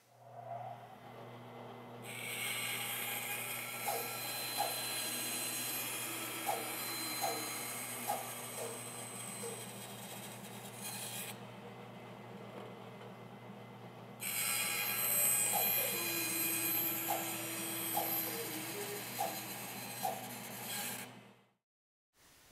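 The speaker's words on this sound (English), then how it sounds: "We'll clean this up on the bandsaw." A bandsaw cuts through wood in two long passes, a steady broad rasping whine over the machine's low motor hum, with a pause between cuts and the motor winding down at the end.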